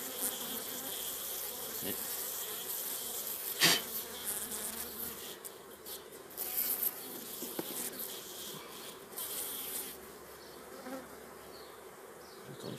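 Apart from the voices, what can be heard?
honeybees buzzing around an opened beehive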